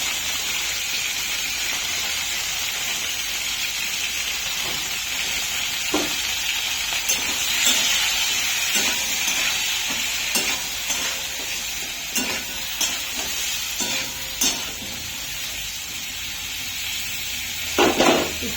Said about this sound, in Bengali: আর হলুদ দিয়ে ভাজতে বসাচ্ছি।